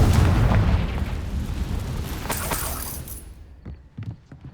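A Confringo spell explodes in the Hogwarts Legacy video game with a loud, heavy boom that rumbles and fades over a few seconds into quieter scattered crackles and pops.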